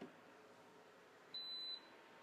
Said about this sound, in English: Probably heard the cooler just beep.